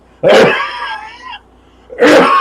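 A single loud, harsh cough bursts out close to the mic, followed by a short strained throat sound and, after a pause, a second rough cough.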